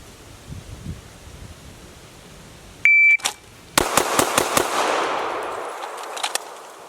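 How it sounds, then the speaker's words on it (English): Five rapid pistol shots fired from seven yards at a shooting range, sharp loud cracks in a fast even burst following a short electronic start beep. "go as fast as I can, 5 rounds from 7 yards"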